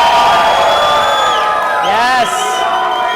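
A loud live studio audience in San Francisco boos and shouts, with drawn-out voices rising and falling together in a dense crowd roar that fills the room.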